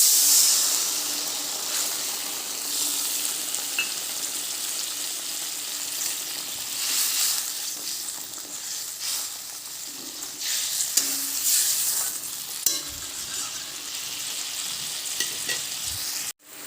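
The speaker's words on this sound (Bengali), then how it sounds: "এখন আমি এখানে ঝোল দিয়ে দেবো।" Pabda fish curry gravy with poppy seed paste sizzling and frying in a hot pan, a dense continuous hiss with crackles and occasional stirring clatters, close and fairly loud throughout.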